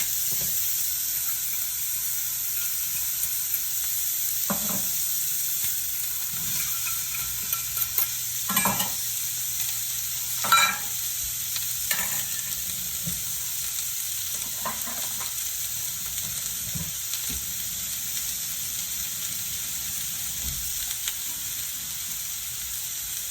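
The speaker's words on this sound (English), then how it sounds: "we are going to add our chopped onion and celery" Chopped onion and celery fry in melted butter in a pot, a soft steady sizzle beneath occasional louder scrapes and knocks of stirring, no one talking.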